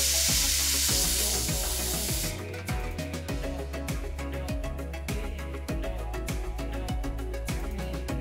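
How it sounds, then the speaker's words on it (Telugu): Chicken cooking in a little water inside a lidded pressure cooker: a loud hiss for about two seconds, then sizzling with a steady low rhythmic thumping pulse. "ఇందులో కుక్కర్ కి మూత పెట్టి చికెన్ ని ఉడికించాలి"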